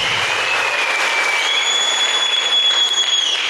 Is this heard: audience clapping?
yes